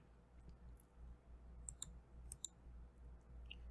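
Several soft mouse clicks submitting orders in a trading app, faint and close, a few isolated taps over a quiet background hum.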